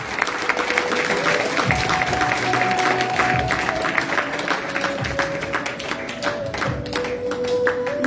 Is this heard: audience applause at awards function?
yes